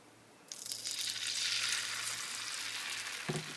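Egg white crepe mixture hits a sprayed hot pan, and a broad, steady sizzle swells up at once and holds, with a brief clatter near the end.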